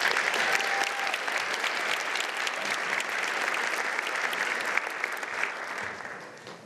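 Sustained, dense applause from a large audience at a scholar awards ceremony, steady and loud throughout before tapering off slightly at the end.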